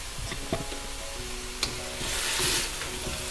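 Stir-fried chicken sizzles steadily in a pan, a close, continuous frying hiss broken by a few sharp utensil clicks and a brief swell of louder crackling, with no talk.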